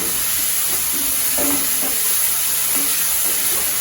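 Onions sautéing in a pan for cauliflower masala podimas, with a loud continuous sizzle and hiss and a few scraping stirs near the middle, heard alone without speech.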